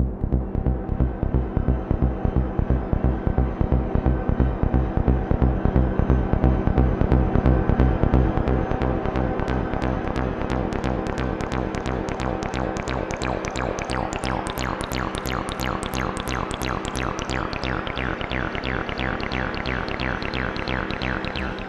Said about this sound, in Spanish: pasando la TV-303 por el Blue Sky, que es una reverb increíble